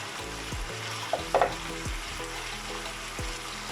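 Tomato and garlic stirred in a frying pan for a potato and calabash curry, a steady close sizzle with repeated scraping strokes of the spoon and a couple of sharper clinks partway through.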